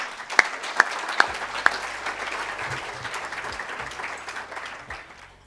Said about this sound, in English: Wow, big round of applause.